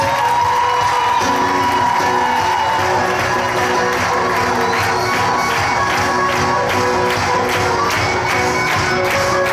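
A church congregation at a youth congress applauds and cheers together, a loud, dense wash of clapping and shouts that holds steady throughout with no break.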